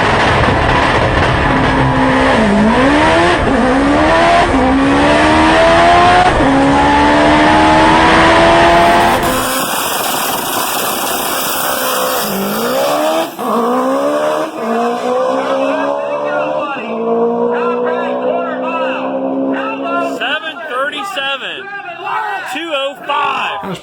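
Red Demon, a drag car running an H-pattern gearbox with a clutch and a billet-block engine on massive boost, screams loudly through rising revs and gear changes on the quarter mile, with people talking over it.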